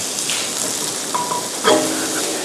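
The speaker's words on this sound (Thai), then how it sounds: "ผมเร่งไฟเลย แล้วผมลงเฟนเนล ครับผมพัดอย่างเร็วครับ" Steady loud sizzling of fennel stir-fried quickly over high heat in a hot pan, with a brief clink of a utensil as it is stirred.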